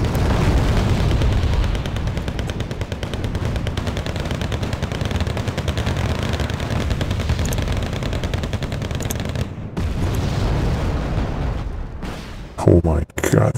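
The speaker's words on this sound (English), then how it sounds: "The Abrams is already firing, but I think it's gonna be struck down by these anti-tank troops." Tank cannon fire and explosions from the Wargame Red Dragon strategy game, an Abrams facing anti-tank infantry, form a loud, dense, continuous rumble of gunfire and blasts with a few sharp bursts near the end.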